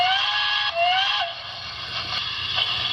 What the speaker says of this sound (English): So this is the 4th whistle.